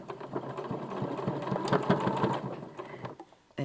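A sewing machine stitching a quilt-as-you-go cushion cover, a close, even whirring run of needle strokes lasting a few seconds before slowing and stopping.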